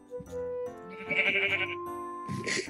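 Sheep bleating in the Minecraft video game, a few clear tonal bleats following one another, with faint game background sounds.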